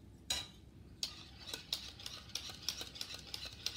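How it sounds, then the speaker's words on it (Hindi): A spoon whisking thick yogurt in a bowl for grape raita, soft rhythmic scrapes and taps against the bowl repeating close by and quietly, with no talking. "ये मैंने एक से डेढ़ कप दही ले लिया, अब इसको अच्छी तरह से फेंट लेते हैं।"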